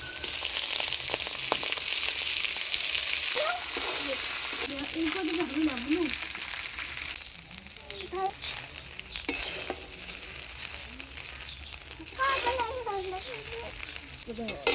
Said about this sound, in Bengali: এবার ভাতটা দিয়ে দিচ্ছি।